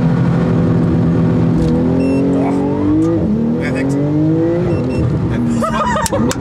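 A Porsche GT2 RS sports car accelerates hard, its loud engine note climbing steadily through the gears with brief dips at each shift, close and continuous throughout.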